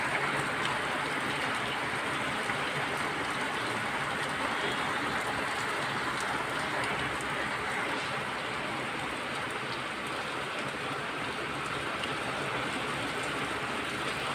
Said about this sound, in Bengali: দেখছেন কি সুন্দর বৃষ্টি।